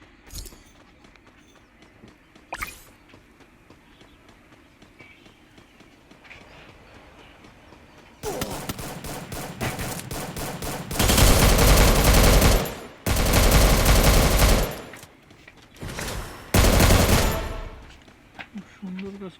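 Rapid automatic gunfire in the video game Free Fire: quiet game ambience with a single sharp shot, then loud sustained bursts of fully automatic fire that stop and start several times.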